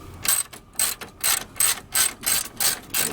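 A ratchet wrench backs out 13 mm grille bolts on a vehicle: a steady run of close, crisp clicking bursts, about seven or eight evenly spaced strokes over three seconds, with no voices.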